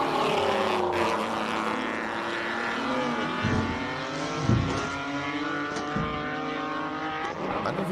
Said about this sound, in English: Just listen to this engine coming through here.